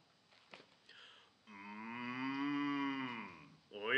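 A cow moos in a long, drawn-out low call that swells and holds for about two seconds before fading, with a second moo starting right at the end, heard alone and fairly close.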